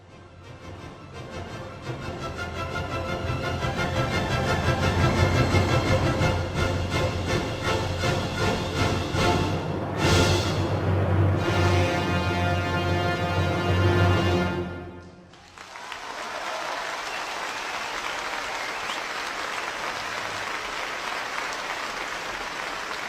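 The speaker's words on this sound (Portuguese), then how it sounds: "Primeiro você ouviu a música, depois os aplausos como reação à música" Music plays for about fifteen seconds with steady tonal chords, then stops and gives way to sustained, fairly loud applause from an audience that continues to the end.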